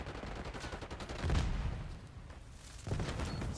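Video game gunfire in a firefight around an HVT, dense and continuous, with louder bursts that swell twice amid a steady crackle of shots.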